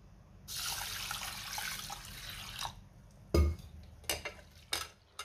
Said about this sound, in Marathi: ही डाळ मी कुकर मध्ये काढून घेते आणि 2 ते 3 पाण्याने स्वच्छ धुवून घ्यायची आहे